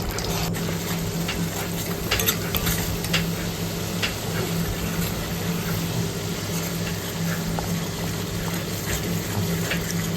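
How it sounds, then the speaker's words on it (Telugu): Onion and green chili paste frying in hot oil for a chicken curry, a steady, close hiss of sizzling oil with faint scattered ticks of stirring. "ఇప్పుడు హీట్ అయిన ఆయిల్లో ఈ ఉల్లిపాయ పచ్చిమిర్చి పేస్ట్ని యాడ్ చేసి చక్కగా లైట్ బ్రౌనిష్ కలర్ వచ్చేంత వరకు ఫ్రై చేసుకోవాలి"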